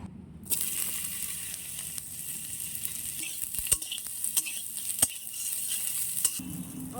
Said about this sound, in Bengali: কড়াই গরম হয়ে গেছে, সোয়াবিন ভাজার জন্য তেল দিয়ে দেবো